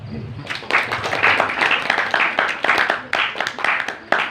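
An audience at an Islamic boarding school gathering in Gunungpati claps in a lively burst of uneven, close hand claps that rise quickly and keep going without letup.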